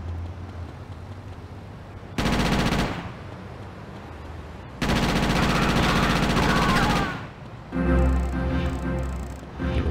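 Rapid automatic gunfire bursts in GTA Chinatown Wars, loud sustained volleys in several separate stretches with brief quieter gaps between them.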